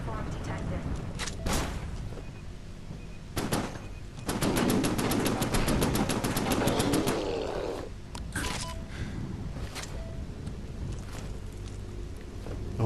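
Rapid automatic gunfire from the sci-fi video game Genesis Alpha One, with short bursts early on and a sustained stream of shots in the middle, joined by talking and game effects.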